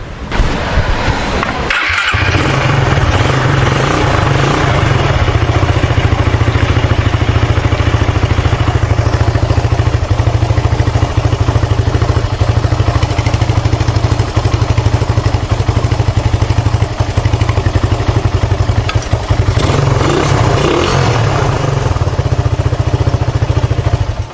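A motorcycle engine starts close by and then idles steadily in a loud, continuous rumble with faint mechanical clatter, alone with no talking over it.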